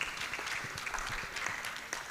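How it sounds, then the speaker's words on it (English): An audience at a national annual conference claps steadily, a dense, moderately loud patter of many hands that carries on without pause for the full stretch. "Keep clapping for him."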